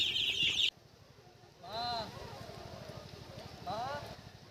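Native desi pati ducks give two short raspy quacking calls a couple of seconds apart, close by and moderately loud, with a person talking and faint shuffling around them.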